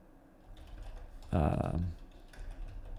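Computer keyboard keys tapped in a quick burst while entering Python code for a Tkinter interface, close and fairly loud, with softer scattered clicks before and after and a voice talking around it.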